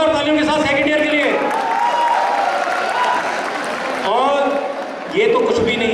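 First-year students at a college freshers' event applaud the second-year students in an auditorium, a crowd clapping beneath someone speaking over a microphone.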